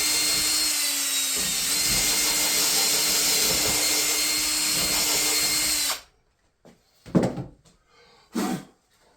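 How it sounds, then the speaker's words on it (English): A power drill bores through clamped wood for a triple box wagon rebuild, a steady loud whine for about six seconds that stops abruptly, followed by a few short knocks and handling sounds. "then I drill it, and keep my drill bit clean so it doesn't splinter out the back as bad"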